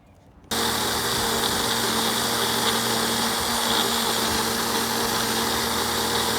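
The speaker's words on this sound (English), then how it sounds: "You just have to blend it now?" A kitchen blender whirs steadily after a brief quiet start, blending a raspberry ice cream mixture with a loud, constant motor hum and no break throughout.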